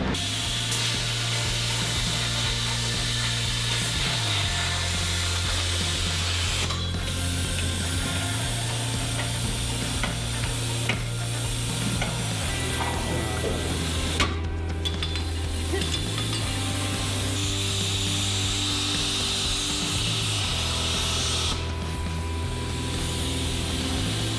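A power tool cuts a thin-walled tube, stood upright, to a taper for a wrecker truck bed, giving a loud, continuous mechanical drone whose low pitch steps up and down throughout, with no talking.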